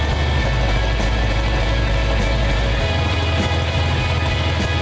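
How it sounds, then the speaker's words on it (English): Old car engine running for the first time since 1975, a steady close rumble that holds without pause and then shifts slightly in pitch partway through. "It was really good to hear the engine run."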